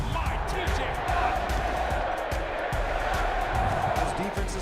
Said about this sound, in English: The crowd at Acrisure is so loud.